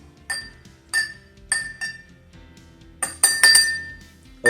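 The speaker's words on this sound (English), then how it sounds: "And now we're gonna mix." Food coloring is stirred into water in a glass for a liquid density experiment. Sharp glass clinks ring out in an irregular series, a few spaced taps followed by a quicker cluster, close and clear with no talk.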